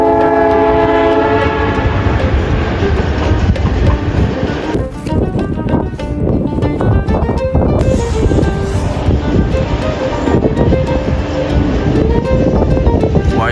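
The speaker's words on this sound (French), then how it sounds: "On a déjà un premier train qui arrive là." A long freight train pulls in somewhere in Morocco. Loud wagons rumble and clank close by the whole time, and a sustained horn blares at the start.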